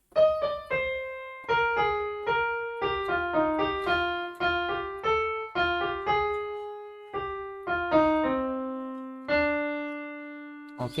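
A keyboard plays the melody of a Bollywood song in clear single notes, a steady run of separate phrases with occasional held tones, heard alone without talk.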